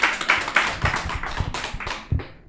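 An audience at a talk on healthy living claps in a quick, even rhythm of distinct, fairly close hand claps. No voices are heard, and the clapping trails off at the end.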